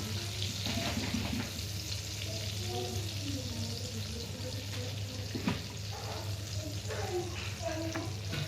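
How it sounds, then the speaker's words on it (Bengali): Prawns fry in hot oil in a pan with a continuous crackling sizzle and occasional stirring. A voice talks faintly over the frying. "মাছগুলো যখন ভাজা হয়ে যাবে আমরা আলাদা একটা পাত্রে তুলে রাখবো।"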